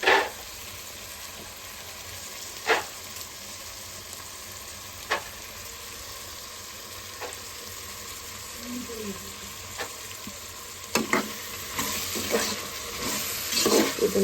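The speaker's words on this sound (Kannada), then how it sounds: "ಇದನ್ನು ಚೆನ್ನಾಗಿ ಫ್ರೈ ಮಾಡ್ಕೋಬೇಕು." Vegetables for spinach pulao fry in a pan with salt, giving a continuous sizzle with occasional scrapes and clinks as they are stirred, all close by and without talk.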